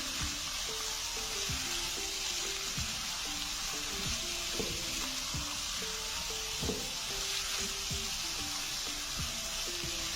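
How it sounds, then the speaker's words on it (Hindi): Tinda (round gourd) fries in masala in a pan, a steady broad sizzle throughout, with repeated soft scraping and stirring knocks on top at a moderate, even pace, no talking. "ये हमारा अच्छी तरह फ्राई हो गए हैं। मसाला भी हमारा भून चुका है।"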